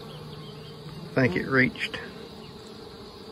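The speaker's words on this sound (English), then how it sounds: "These bees are washboarding, laid out, hot." Honey bees buzz around a hive on a hot afternoon, a steady insect drone in the background while a person speaks briefly over it.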